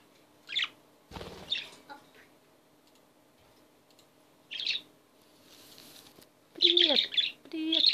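A pet parrot gives a string of sharp, high chirps and squeaky calls, scattered across several seconds with quiet gaps and a brief clatter between them, close and fairly loud.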